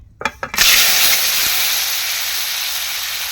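An egg dropped into hot mustard oil with turmeric gives a few quick cracks and taps, then bursts into a loud, steady sizzle that slowly eases off.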